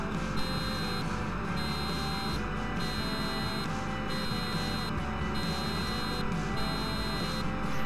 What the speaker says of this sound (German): Ziemlich komische Hupe, muss ich sagen, für so ein großes Fahrzeug.